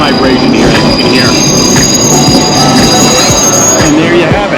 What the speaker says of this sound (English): this is not like the bullet train, it is a lot of vibration here, as you can hear.